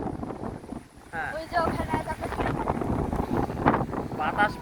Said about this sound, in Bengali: বাতাস, প্রচন্ড বাতাস হচ্ছে